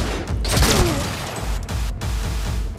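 Gunfire in the video game Cyberpunk 2077, a burst of shots and impacts early on followed by ongoing mechanical combat noise, loud and close throughout.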